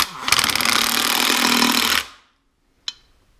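An impact wrench drives bolts on a small block engine with worn lifters, making one loud, close, rapid hammering burst of about two seconds, then a brief silence and a single sharp metallic clank.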